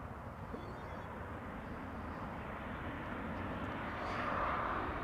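A Qatar Boeing 777 freighter takes off from runway 06 at Amsterdam Schiphol, producing a steady, broad jet-engine roar that swells slightly toward the end.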